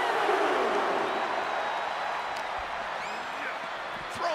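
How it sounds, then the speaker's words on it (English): A wrestling arena crowd, heard as a broad, steady roar of cheering and clapping that keeps going throughout, with faint whistles and scattered shouts rising over the noise. "The sound of this crowd is deafening, and he's asking for more."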